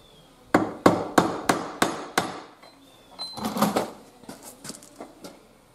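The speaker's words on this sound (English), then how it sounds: "Then I just take it right here to the vise and I hammer it down." Six sharp, evenly spaced hammer blows ring out on a metal trap held in a vise, followed by a looser run of lighter taps and clanks, close and loud.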